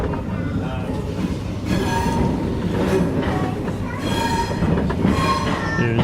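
A Class 390 train, unit 390 011, rumbles steadily at Liverpool Lime Street station, a continuous loud rolling drone with some squealing, while a voice speaks over it.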